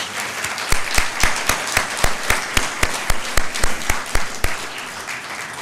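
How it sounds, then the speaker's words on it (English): Audience applause after a lecture conversation, a steady round of clapping with sharp individual claps standing out over a dense patter, fairly close and sustained throughout. "Let's give them both a round of applause."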